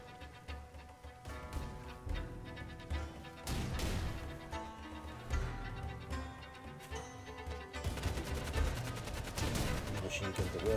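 Machine guns rattle in a video game, with dense, rapid bursts of fire and crashing impacts layered over a busy, tonal game soundtrack that stays loud throughout.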